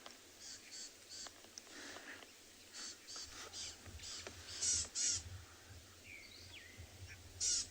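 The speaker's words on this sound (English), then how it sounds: "if you listen carefully, you can hear a whole lot of birds shouting at it." Wild birds in South African bush give harsh, repeated alarm calls at a slender mongoose, rough caws and chatters sounding from some distance over quiet murmuring.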